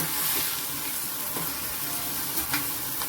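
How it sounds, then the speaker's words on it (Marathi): Green chickpea leaves fry and sizzle in a pan while being stirred, a steady close hiss with a few soft scraping stirs and no talking. "आता छान हलवून घ्यायची भाजी."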